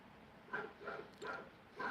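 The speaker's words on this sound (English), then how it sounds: "Fucking dog's freaking out." A dog whimpers in an agitated way in a quiet neighborhood, giving four short, fairly faint yelps and whines about half a second apart with no other sound.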